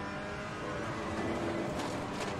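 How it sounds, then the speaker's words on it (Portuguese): Ferrari race car engine in Assetto Corsa Competizione at the Hungaroring circuit, a continuous droning roar holding steady and swelling slightly, with no voices over it. "O som continua muito bom. Eu tô pilotando a Ferrari"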